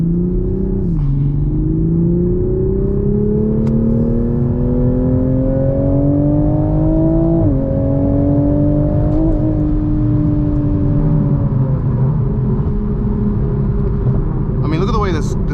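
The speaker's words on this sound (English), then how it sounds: "I mean, look at the way this car pulls." Toyota Supra A91 with turbos pulls hard on a public road, its engine note rising through the gears with two clear shift drops, loud and close from inside the cabin.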